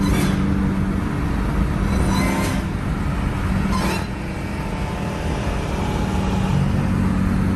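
A car in a racing video game drones at a steady, loud pitch as its supercharger charges up, with the engine note briefly dipping partway through.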